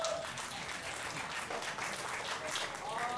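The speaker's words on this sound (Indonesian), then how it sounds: "tepuk tangan lagi dong" Audience applause at an artists' panel discussion on literature and visual art: a steady, dense wash of clapping from a crowd that holds at an even level for about three seconds, with no voices standing out.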